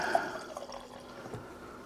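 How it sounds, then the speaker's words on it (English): Orchard Pig cider pours in a short trickle from a PerfectDraft dispenser, a faint close liquid flow with small drips over a quiet background. "Let me just pour a wee touch."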